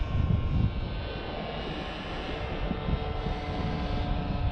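A Hangar 9 Ultra Stick model airplane with a 10cc two-stroke glow engine buzzes steadily in flight, a continuous droning whine that swells slightly at first, then holds level at moderate distance.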